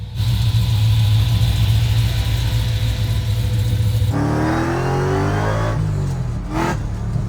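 A Dodge Demon 170 V8 rumbles steadily, then surges into a loud acceleration at 60% throttle, its rising engine note climbing through the gears close by.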